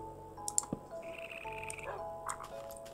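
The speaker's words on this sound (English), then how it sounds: "I hear frogs." Frogs croak in a Minecraft game world at dusk, a few short croaks and clicks over quiet ambient game sound.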